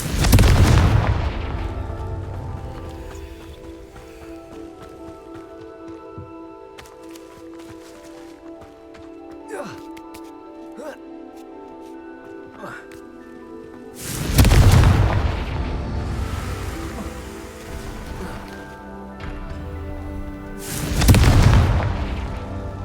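Heavy booming blasts of the Confringo fire spell in the video game Hogwarts Legacy. A big explosion opens, followed by a quieter stretch with magical chimes, then two more deep, rumbling blasts.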